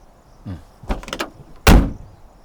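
A car door is slammed shut once, a loud and close broadband thump, after a few softer handling clicks and rattles from the door.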